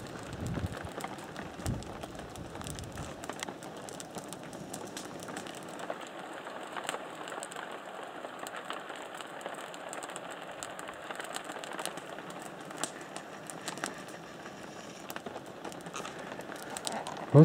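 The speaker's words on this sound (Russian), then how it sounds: "Наверное, слышно, как дождь капает." Rain dripping and pattering outdoors at a hiking camp, a faint scattered tapping with occasional closer drops and light rustling, no voices.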